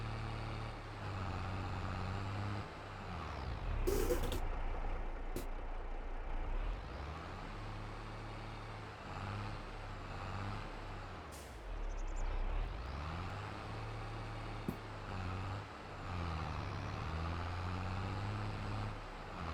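A heavy truck hauling a roller in a trucking simulator game drones along at low volume, its engine tone rising and dipping as gears change, with a brief air-brake style hiss and a couple of sharp clicks along the way.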